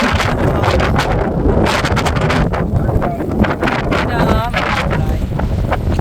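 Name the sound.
strong wind at the seashore on Borkum island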